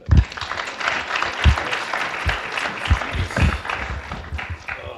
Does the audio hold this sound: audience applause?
yes